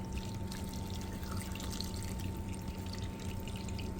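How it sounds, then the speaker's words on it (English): A cup of hot water poured into beef stew with potatoes and carrots in a pressure cooker, a steady close trickling pour lasting a few seconds with no talk over it. "And I'm going to add another cup of hot water."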